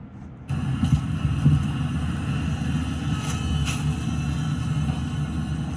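A drone flies overhead, a steady, fairly loud rotor drone and rumble that keeps going without letup. No one speaks.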